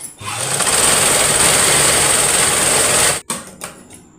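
Sewing machine running a continuous stitch around the edge of cloth to finish a shaped belt piece, a steady close whirring for about three seconds before it stops, followed by brief handling noises.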